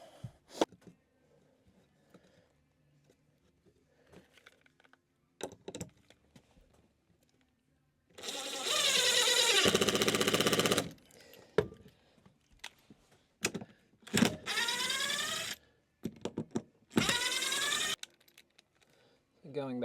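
A power drill drives screws into timber in a cottage loft, with a few loud bursts of whirring that rise in pitch, amid quiet knocks and handling sounds and some talking.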